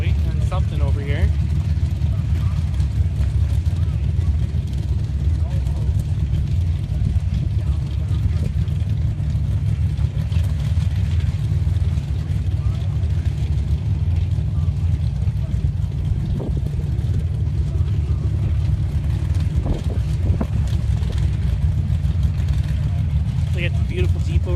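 A Jeep at a sand drag racing event produces a constant low engine rumble throughout, with voices talking over it.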